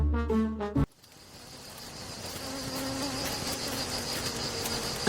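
Bees leaving their hive, a steady, dense buzzing drone that swells gradually after a short burst of music cuts off, fairly loud and continuous.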